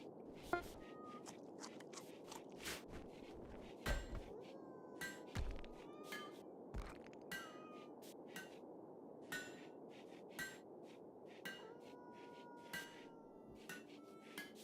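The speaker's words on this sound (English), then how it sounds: "I want you to use that hammer" Repeated hammer strikes from melee combat in the colony-building game Rimworld, sharp percussive knocks at irregular intervals over a steady low background hum, some louder, some softer.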